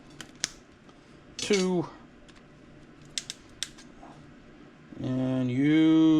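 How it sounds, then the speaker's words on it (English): Cutters snipping MOSFET components off a radar detector circuit board, a few small clicks and snips between scraping and metallic ringing, with brief speech. "Let's recover these MOSFETs. We'll just cut them off."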